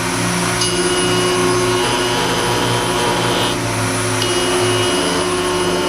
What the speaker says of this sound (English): it's time to get my router table out and do a little piece of embellishment on these backing plates